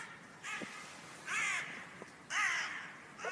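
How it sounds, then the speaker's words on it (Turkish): Crows caw three times in a row, evenly spaced and moderately distant, in snow, with quiet background between calls. "Gak gak yapıyor kuşlar."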